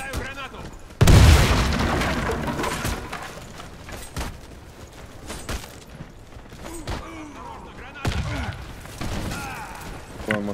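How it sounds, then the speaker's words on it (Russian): A grenade blast in the video game Warface lands about a second in as a loud, deep boom that decays slowly, followed by scattered gunfire cracks and clatter, with a voice talking underneath. "Кидаю гранату."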